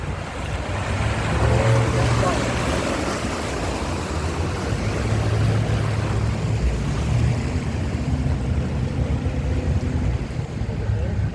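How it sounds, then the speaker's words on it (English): A boat engine idles with a low steady rumble, mixed with wind and water noise throughout. "So a little courtesy idling going into the canyon"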